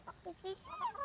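A Leghorn chicken gives a few short close clucks and chirpy calls, quiet and brief, with voices nearby.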